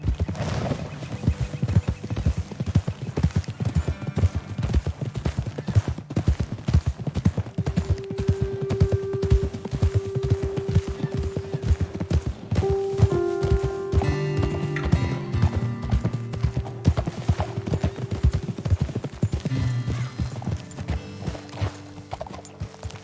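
Steady clip-clop of horses' hooves walking at an even pace in the video game Red Dead Redemption 2, close and continuous, with a faint sustained tone in the background.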